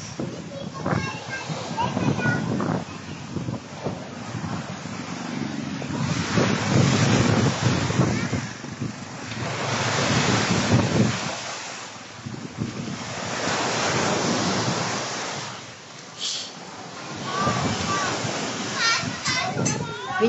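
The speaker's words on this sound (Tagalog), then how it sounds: "Yan ang dagat. Malakas." Strong sea waves surge and crash on an island shore at Tingloy, a loud continuous roar with rolling swells and wind buffeting the microphone, voices talking over it at times.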